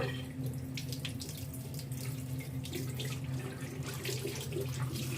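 Lukewarm tap water runs steadily into a sink to rinse off a peel-off glitter face mask, a continuous close splashing hiss that holds an even level from start to finish, with no talking.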